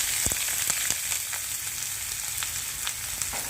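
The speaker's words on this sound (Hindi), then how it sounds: "4 हमने बड़े साइज़ के प्याज लिए हैं, ये डालेंगे घी में" Finely chopped large onions frying in ghee, a continuous close sizzle punctuated by several sharp spoon taps and stirs, with no talking.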